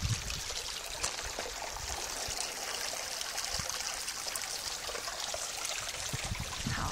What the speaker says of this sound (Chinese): 有听到水声吗？